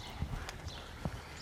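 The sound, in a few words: horse hooves clip-clopping, a mare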